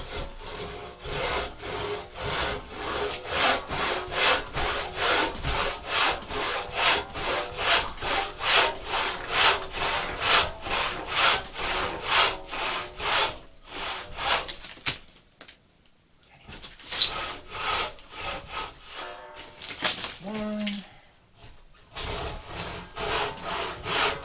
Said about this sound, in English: I'm going for a bigger saw.